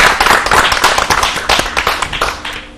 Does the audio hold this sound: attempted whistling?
no